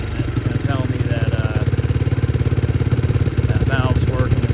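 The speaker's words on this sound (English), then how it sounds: "I got the idle screw all the way in. So I want it to start revving up like this." An old motorcycle engine, parked for eight years and once without compression, runs with its idle screw turned fully in, giving a steady pulsing mechanical drone with rising rev swells, heard alone and close.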